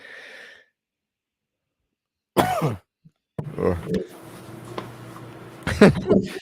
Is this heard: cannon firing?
no